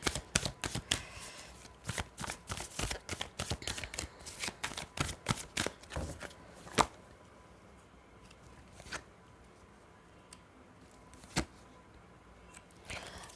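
Tarot cards being shuffled up close, a quick run of papery riffles and flicks for several seconds, then thinning to occasional soft handling sounds.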